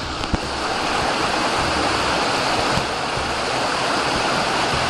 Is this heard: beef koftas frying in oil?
no